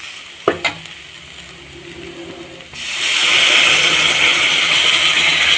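Rice flour halwa stirred in a hot pan: two sharp knocks of the utensil, then a quiet pause before a loud, continuous steamy hiss as hot water hits the browned flour.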